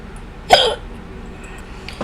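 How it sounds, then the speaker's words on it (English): A single sharp hiccup lands near the start of the pause, loud and close, followed by a quiet room with no talking. "When I get hiccups, they don't go away."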